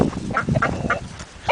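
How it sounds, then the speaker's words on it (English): Farm chickens cluck and squawk close by in short, uneven bursts, a cluster of hens calling over one another for about a second and a half. "And chickens, chickens, chickens, chickens."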